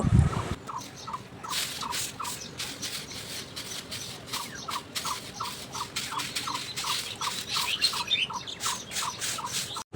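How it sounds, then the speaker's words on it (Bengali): Early-morning birdsong, a bird repeating a short chirping call in a regular rhythm over a dense background chorus of twittering, moderately close and continuous for the whole stretch. "এই যে পাখির ডাক, এই যে মিষ্টি পাখির সুরের কলরব,"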